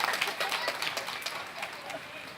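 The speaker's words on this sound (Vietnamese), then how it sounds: "Chúng ta vỗ tay chúc mừng." A church congregation at a baptism applauding together, a fairly faint, steady wash of many hands clapping with voices mixed in.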